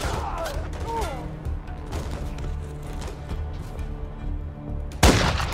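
Scattered muffled gunshots in Call of Duty: Modern Warfare 3 under voices and chirpy sounds, ending with one loud, sharp shot near the end.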